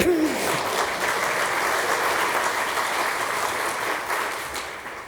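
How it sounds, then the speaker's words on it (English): Audience applause at an awards gala for writers and illustrators, a steady broadband clatter of many hands that holds loud for about five seconds and thins slightly toward the end. "So applaud her 3 times, please."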